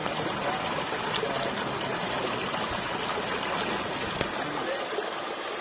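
Water trickles and splashes steadily into a pond water feature at a bass pond build, close by and constant, with no voices over it.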